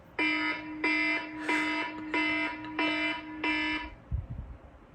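Electronic alarm tone used as a wake-up alarm, sounding in six evenly spaced, loud beeping bursts, then stopping with a brief rustle at the end.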